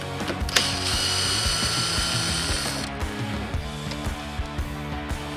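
A hand ratchet clicks rapidly and steadily while backing out the bottom air deflector bolt on a 2015-or-later Harley-Davidson Road Glide outer front fairing, close and continuous with a brief higher whir early on.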